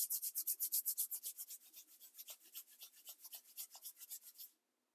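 A hand rubs briskly over an at-home wax strip on skin, making a fast, rhythmic swishing of close, soft friction strokes that slows slightly and then stops abruptly.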